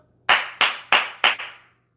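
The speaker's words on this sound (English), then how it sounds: "Jason Garrett clap." Four sharp hand claps ring out in a steady rhythm, close and loud, in the enthusiastic style of football coach Jason Garrett, followed by a faint fifth echo and then silence.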